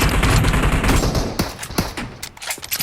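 Rapid bursts of gunfire in the mobile game PUBG Mobile, loud and dense at first, then thinning into scattered separate shots toward the end.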